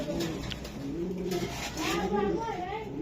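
Racing pigeons cooing close by, with repeated low rolling coos over a busy background as a person talks nearby.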